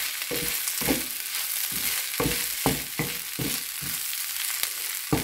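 Leftover idli crumbled into upma sizzles in a pan while being stirred, with a rhythmic series of scraping strokes roughly every half second over a constant frying hiss.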